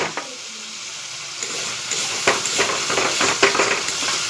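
Masala frying and being stirred in oil in a pan, a steady close sizzle with scraping and clinks of a spoon against the pan that grow busier after the first second.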